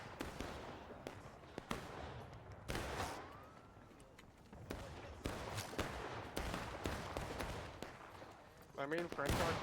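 Artillery fire in a video game battle from the Grand Campaign era of French, US and Confederate forces, with repeated booming blasts and crackling volleys, loud and near, alongside voices talking.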